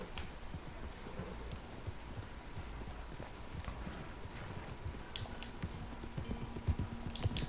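Horse hooves clip-clop in Red Dead Redemption 2, a quick, steady gallop rhythm over a low rumbling bed with faint wind, continuing without talk.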